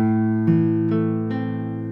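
An Osamu Sakamoto No.50 concert classical guitar plays three plucked notes, about half a second apart, each ringing out clearly and sustaining as it slowly fades, with no other sound.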